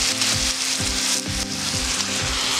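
Tomato goes into a hot paella pan cooking over an open fire, raising a steady, loud sizzle and crackle of frying that carries on without a break, with a few soft scrapes and knocks beneath it.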